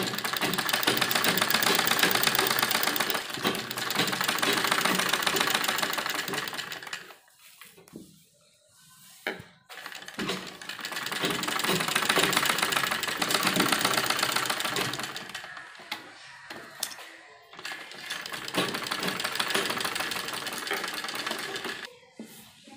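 A sewing machine runs in three long bursts while stitching a baby dress, a loud close mechanical whirr with rapid needle chatter, separated by brief pauses and handling noises.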